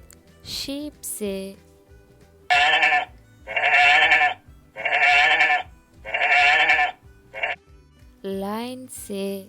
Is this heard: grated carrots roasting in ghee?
no